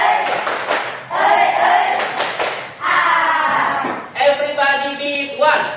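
A classroom group performs a rhythmic spirit clap in bursts of patterned clapping separated by short gaps, with voices chanting along between and over the claps.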